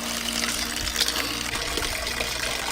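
Water pouring steadily into a container for nettle fertilizer, a continuous gushing splash with small bubbling fluctuations, close and fairly loud.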